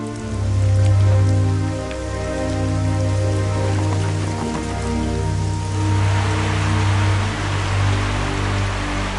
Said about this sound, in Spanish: La lluvia que cae río arriba enfría el arroyo